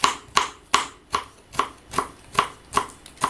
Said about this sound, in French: Les radis, on les coupe en rondelles.